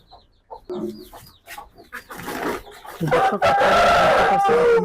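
A native Bangladeshi deshi rooster kept at a village market crows loudly and close by, with a few clucks and calls first, then a long, strong cock-a-doodle-doo filling the end, with no talk.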